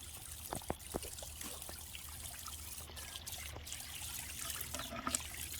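Water trickles softly down a DIY pondless waterfall in a backyard garden, a faint continuous outdoor splash and dribble with a few small drips on top.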